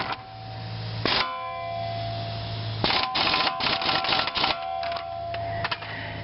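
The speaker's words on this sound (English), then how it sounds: "all you need to do is just hit it a few times right there. It'll loosen up." Metal-on-metal strikes against the wheel hub of a 2003 Ford Escape during a bearing replacement: loud ringing clangs, one near the start and then a dense cluster of rapid blows followed by a final hit, with no talking.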